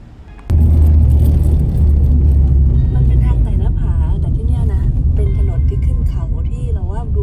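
A car driving down the winding Mount Nemrut mountain road in eastern Turkey, a steady close engine and road rumble that starts abruptly and holds under continuous talk.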